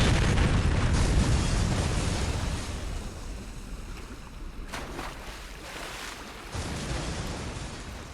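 A big explosion in the video game Saints Row IV, a loud roaring blast that slowly fades into a rumbling tail with a few further bursts of debris and fire.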